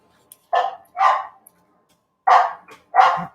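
A dog barks four times in two pairs, loud and close, with a pause between the pairs and no talk over it.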